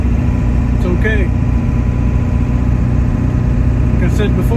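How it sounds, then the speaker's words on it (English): A diesel truck idles with a steady low rumble through a 4-inch exhaust run from the turbo back to the tailpipe, close and continuous, while someone talks over it. "4-inch pipe from the turbo clear back in the tailpipe. Gets a little rumble going"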